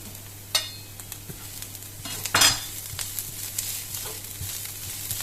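Garlic going into a hot sizzling pan, with a steady background fizz, a sharp hiss as it lands, then a few scraping stirs of a utensil against the pan; no one speaks.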